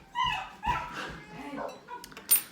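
Dogs bark, yip and whimper in a few short bursts nearby, partly mixed with faint talk in a room where stencils are being removed from alcohol ink work.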